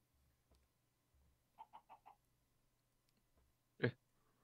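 A chicken in a video game gives four quick, soft clucks in a row, followed by a single louder cluck, over quiet background noise with faint thuds and no talking.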